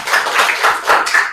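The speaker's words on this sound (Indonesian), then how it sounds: "tepuk tangan dulu untuk kelompok 1." A short burst of close, loud hand claps from a classroom group applauding group 1, with several distinct rhythmic claps overlapping in quick succession.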